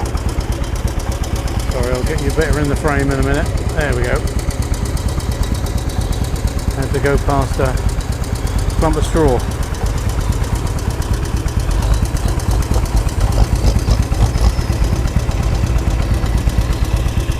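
Vintage motor cart engine idling at an outdoor show of tractors and stationary engines, with a steady, fast mechanical chugging that runs loud and continuous under someone talking near the microphone.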